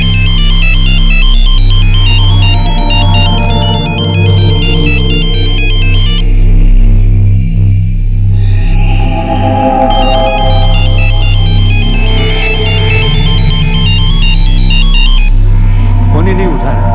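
A telephone rings repeatedly and goes unanswered, its loud electronic ringtone pulsing in regular bursts over a low droning hum.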